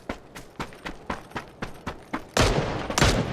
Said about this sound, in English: Ooh, it's shooting from these buildings!